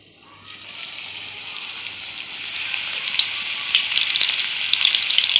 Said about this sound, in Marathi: आपण त्याच्यामध्ये भजी घालून घेऊया.